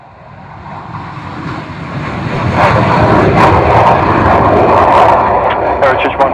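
A fixed-wing aircraft at the Royal International Air Tattoo takes off from runway 27, its engine roar loud and building steadily to a sustained, powerful rush while a radio voice speaks over it.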